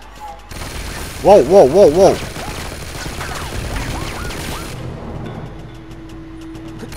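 Machine gun fire in Uncharted 2 crackles as a steady burst of gunshots. Someone shouts in alarm over a few loud rising-and-falling bursts of game sound near the start.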